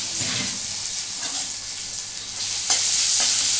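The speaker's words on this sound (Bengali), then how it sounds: "এখন তেলের মধ্যে দিয়েছি হিং, আর এই যে আদা গ্রেট করাটা আছে, এই আদাটা আমি এর মধ্যে মিশিয়ে দেবো" Asafoetida and grated ginger fry in hot oil while being stirred, a steady close sizzle with a few soft stirring scrapes, and no talk over it.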